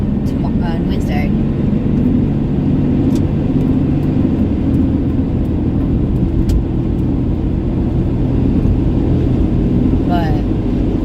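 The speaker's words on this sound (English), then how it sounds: "there is a lot actually more traffic than I was seeing earlier" Heavy road traffic rumbles past at close range in a steady, loud engine drone with tire noise and occasional rising passes, while a person talks over it.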